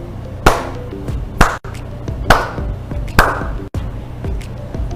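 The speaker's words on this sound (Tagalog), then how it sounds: "Pumalakpak ng 4 na beses." Children clapping four separate times in a Grade 1 classroom lesson, each a loud sharp burst of many hands together, evenly spaced over a few seconds with a faint tone underneath.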